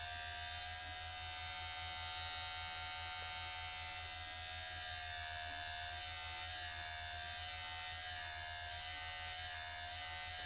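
A Geemy GM 6008 hair clipper runs steadily with its lever up, giving a continuous close, even electric buzz with a slight rise in pitch partway through, heard alone.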